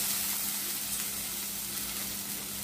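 A buttered leftover chapati sandwich crisps on a hot pan with a constant, even sizzle and faint crackle, close and alone without talk.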